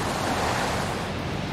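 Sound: ocean waves on a beach

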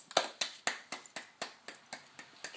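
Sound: child clapping hands

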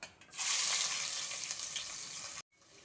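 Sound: onions frying in oil for chicken biryani

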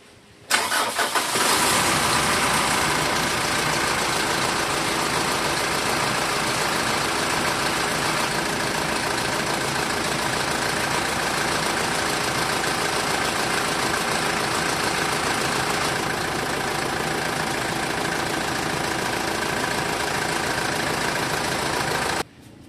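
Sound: Mitsubishi Montero Sport engine starting and idling after throttle body cleaning

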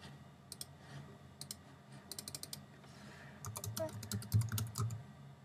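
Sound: typing a folder name on a computer keyboard

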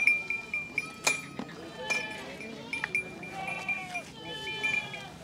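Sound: Beetal goats bleating on a goat farm

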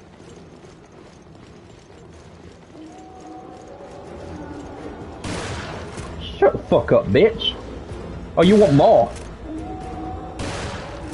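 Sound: shotgun firing in the video game Resident Evil: Revelations

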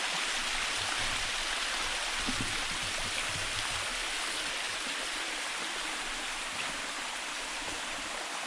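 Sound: full forest stream flowing

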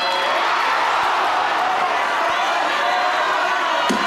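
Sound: studio audience ovation on game show

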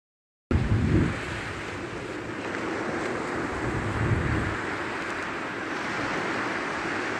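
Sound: sea waves, sound of the sea

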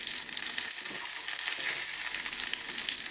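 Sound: hot oil poured over fish flesh, sizzling

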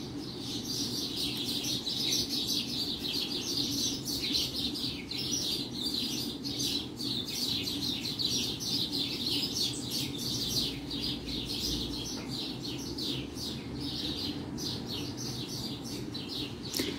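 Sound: sparrows chirping and squabbling in a tree

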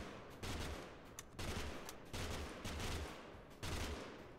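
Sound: gunfire in a video game

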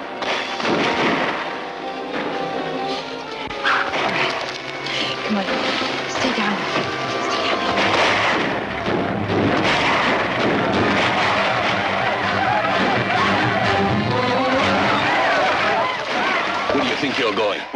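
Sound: gunfire in a 1958 western film

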